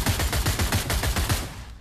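G3 battle rifle firing in the video game Pavlov: a rapid burst of about ten loud, close, evenly spaced shots over roughly a second and a half, then a short fading tail, with no talk.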